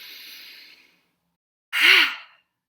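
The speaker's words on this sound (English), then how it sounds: "Make the ha sound as you exhale." A long inhale followed by a forceful, breathy exhale with a voiced ha during a prenatal breathing exercise, close and clear, with near silence between the two breaths.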